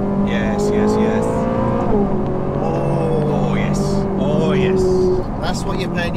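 A Ferrari 458 Italia's engine revs and climbs in pitch with gear-change dips, loud and close, while people talk excitedly over it.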